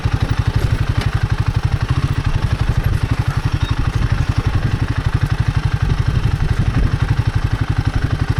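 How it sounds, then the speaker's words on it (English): A Royal Enfield Himalayan 450 motorcycle riding off-road on sandy singletrack in Michigan, its single-cylinder engine thumping in a fast, steady, loud pulse close by, with wind and rattling, and no talking. "riding the Himalayan when you're riding off-road like this"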